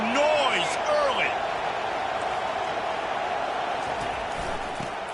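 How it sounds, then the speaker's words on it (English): Stadium crowd noise in a football video game: a broad, steady roar of spectators with whistle-like rising and falling tones early on, heard under commentary. "This crowd bringing the energy and noise early."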